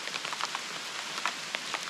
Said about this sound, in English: It just so happened to start raining right as we're about to go swimming here.